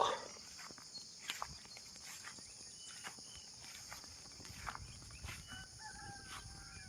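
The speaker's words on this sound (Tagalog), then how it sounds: "Tiktilaok ng manok." A rooster crows faintly in the distance over quiet mountain ambience in Famy, Laguna, with soft footsteps and scattered bird calls nearby.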